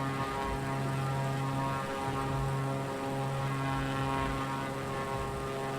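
Aircraft engine droning steadily while flying over Heathrow in PUBG, a constant propeller-like hum with strong tonal harmonics, fairly quiet and unbroken, no talk.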